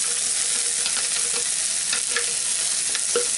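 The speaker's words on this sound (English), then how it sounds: "I'm going to throw sausage into the same pan." A vegan sausage patty sizzles and fries in a pan sprayed with oil, a steady loud crackle with small pops and a few stirring scrapes, close up and with no talk.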